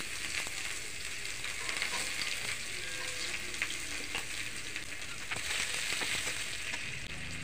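Onions frying in oil with dried red chillies, bay leaf and cumin seeds, a dense, steady crackling sizzle punctuated by stirring clicks, moderately quiet and close, with no voices.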